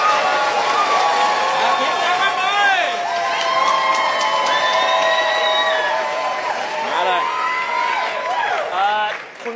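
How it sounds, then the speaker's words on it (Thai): Loud crowd of spectators cheering and shouting at a televised rock-paper-scissors game show, a dense continuous roar with rising whoops and some clapping, voices blended throughout the whole stretch. "คะแนนนี้มีความหมายขอเสียงกองเชียร์"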